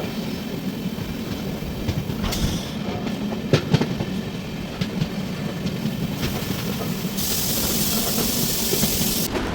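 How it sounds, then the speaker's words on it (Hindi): Thiruvananthapuram to Hazrat Nizamuddin Rajdhani Express rounding a sharp curve through green countryside lined with coconut palms: a steady heavy rumble of wheels with airy hiss and occasional sharp clicks and squeals, continuous and fairly close, with no talking. "और अब ट्रेन ले रही है एक खूबसूरत शार्प कर्व।"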